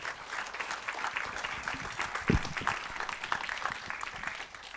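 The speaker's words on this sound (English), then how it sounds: "Give them a round of applause." An audience at a public impact day event in San Diego applauds in a steady, dense burst of clapping that holds throughout, with a short thump near the middle.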